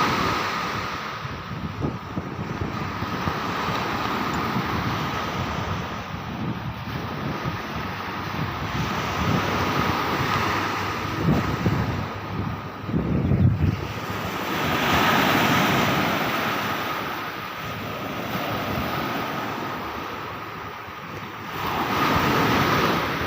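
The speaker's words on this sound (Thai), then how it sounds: "ฟังเสียงคลื่นครับ" Sea waves wash steadily at a small island off Songkhla in the Gulf of Thailand, a continuous broad surf roar with gentle swells and some wind noise on the microphone, no voices.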